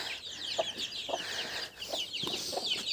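A hen clucks softly among her chicks in a farmyard run, with short repeated low clucks under a dense layer of high, rapid peeping from the chicks, all close by.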